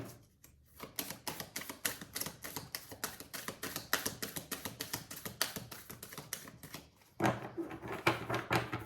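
Tarot cards shuffled by hand, a long run of quick crisp taps and riffling clicks in a steady patter. There is a brief pause near the start, a short gap near the end, then a louder burst.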